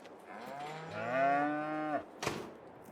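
Cows mooing inside Farming Simulator 22 on a survival roleplay farm, one long, loud, drawn-out moo rising and falling close by, followed by a short thump with no talking.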